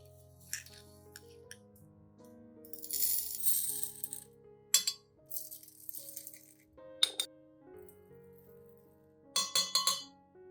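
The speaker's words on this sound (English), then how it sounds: "Prepare a clean glass. Add 3 tablespoons of rice," Three tablespoons of dry rice rattle and clink into a clean glass in several short pours, with tinkling bursts separated by pauses, close and fairly quiet.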